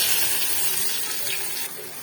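A steady hiss and crackle of finely chopped onions sizzling in hot oil, continuous and fairly close, without any voices.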